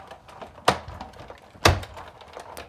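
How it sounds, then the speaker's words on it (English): Big Shot die-cutting machine cutting stitched circle framelits dies, giving two sharp, close thunks about a second apart with faint clicking and rustling between them. "So I'm going to run this through my Big Shot."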